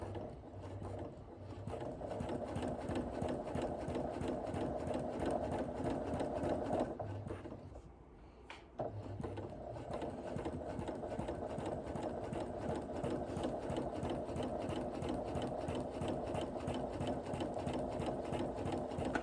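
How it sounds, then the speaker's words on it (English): A sewing machine runs steadily, stitching a stack of quilt panel blocks with a fast mechanical chatter. It pauses briefly near the middle, then carries on at a constant close, loud level with no talk. "I'm gonna try to sew this with one hand so you have a better view"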